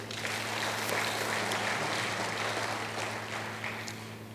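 Congregation applause for Jesus during an online church service, a steady, even clapping texture with a low hum running beneath it throughout.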